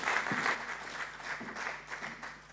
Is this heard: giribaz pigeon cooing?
no